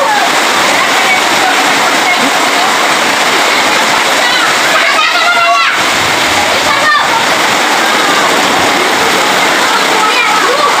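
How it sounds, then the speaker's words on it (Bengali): Heavy rain pours down in a steady, dense roar close by, with voices talking over it throughout. "প্রচুর বৃষ্টি পড়তেছে"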